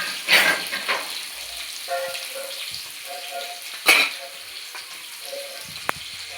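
Onions and green chillies sizzle and crackle in hot oil in a home kitchen pan, with a few louder bursts as the mixture is stirred, plus clinks and light water sounds; no talk.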